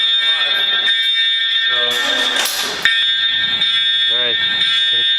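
A fire alarm rings loudly and without a break for the whole stretch, its shrill, steady electronic tone sitting under people talking and laughing nearby.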